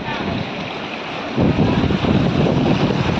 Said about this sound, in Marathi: ह्या बघा लाटा समुद्राच्या